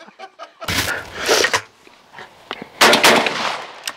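Two loud, close blasts from a Turkish Altobelli double-barrel shotgun a couple of seconds apart, each with a sharp crack and a rolling outdoor echo.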